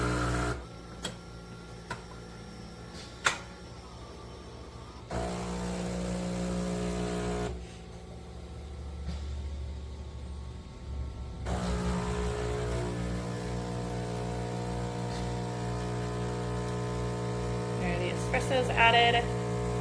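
A Philips Series 2300 fully automatic espresso machine brews espresso, a steady mechanical hum with pump-like whirring and tonal drone running throughout, loud and close, with a brief quieter pause midway and some clicks near the end.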